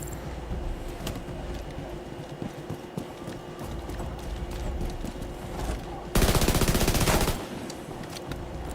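Turret gunfire in The Division 2 shooter game, scattered sharp shots over a busy combat bed, then a loud rapid burst of automatic fire lasting about a second before easing off.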